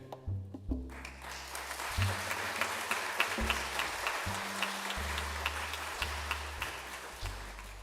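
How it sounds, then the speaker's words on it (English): Audience applause at the close of a poetry reading at St. James Episcopal in Austin, a steady burst of indoor clapping from a modest crowd with a few sharper individual claps, continuing throughout without talk. "we love the clapping at the end of each poet's time"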